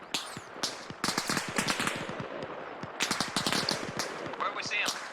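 Rapid bursts of automatic gunfire from a player's rifle in the military shooter Arma Reforger crackle close and loud in quick strings, with voices talking over them.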